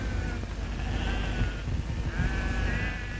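Sheep bleat in a flock grazing on natural pasture in Australia. A few drawn-out bleats rise over a steady, noisy background.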